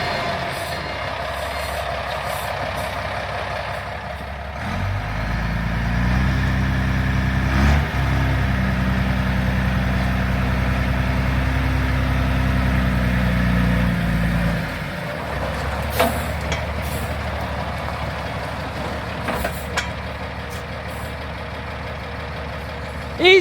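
A large truck engine runs and idles nearby while a steady reversing beep sounds for about ten seconds, then cuts off as the engine settles into a lower rumble with a few light knocks.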